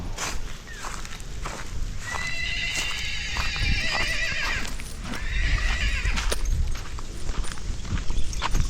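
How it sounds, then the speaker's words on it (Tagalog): A horse whinnies loudly twice over steady clip-clopping hooves and outdoor background noise in Barangay Tungkod, Santa Maria, with no one speaking. "Hiyaw na ang kabayo."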